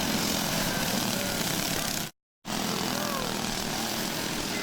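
Pack of dirt karts, 6.5 and 5 horsepower classes, roaring together at the start of a heat race on an Oswego track, a dense steady engine drone briefly cut by a short silent gap midway.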